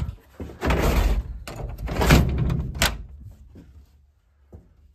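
A 2024 HVAC van door is pulled shut with a rolling, scraping slide that ends in a heavy thunk, followed by a few small rattles as it settles, close by with no talking.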